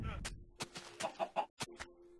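Minecraft chickens cluck in a few short, repeated bursts on the Xbox 360 edition, close and fairly loud, with game sounds around them and no talk over them.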